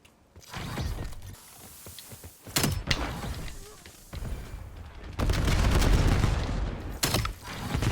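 Bursts of gunfire in the Black Ops 7 shooter, sharp cracks and volleys mixed with mechanical clatter and game effects, loud and close, coming in several clusters.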